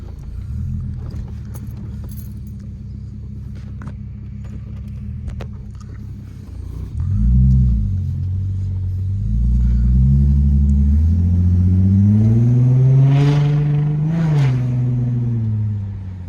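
A Holden VT/VX/VY Commodore drives along, its engine a steady close rumble that swells as it accelerates and revs up, then climbs in pitch through the gears before easing back.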